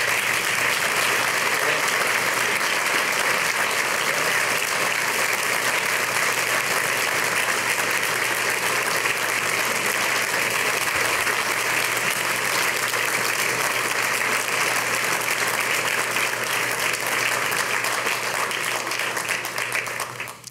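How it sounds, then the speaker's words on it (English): An audience at a salute to American heroes gives sustained, dense applause for about twenty seconds at an even level, then it starts to fade at the very end. "Please give them a round of applause."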